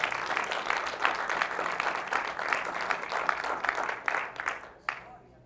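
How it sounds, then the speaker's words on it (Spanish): A church congregation breaks into loud, sustained applause during a Spanish-language sermon, the clapping dense and steady for several seconds before thinning out into a few scattered claps. "Den un fuerte aplauso al Rey de Reyes."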